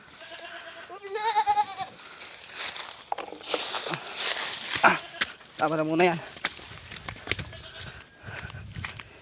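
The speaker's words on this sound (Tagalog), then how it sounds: "Ano dito yung mga kambing natin." Farm goats bleating during the hot summer season, with a few loud wavering bleats close by among rustling and footsteps, while people talk nearby.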